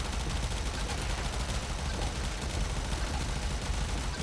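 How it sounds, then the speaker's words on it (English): Sustained rapid gunfire from the Warframe shooter game, a dense continuous barrage of automatic shots that stays loud and steady throughout with no talking. "Alright, let's just keep firing."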